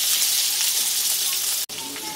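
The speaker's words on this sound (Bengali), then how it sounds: "ঝিঙেগুলোকে হালকা করে একটু তেলের মধ্যে নেড়ে নিয়ে আমি এগুলোকে তুলে নিচ্ছি" Ridge gourd pieces sizzle loudly in hot oil while being stirred for a Bengali rui fish curry. A dense, bright, continuous hiss fills the whole stretch and drops out for a moment near the end.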